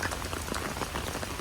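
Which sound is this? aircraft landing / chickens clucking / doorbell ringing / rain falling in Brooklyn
rain falling in Brooklyn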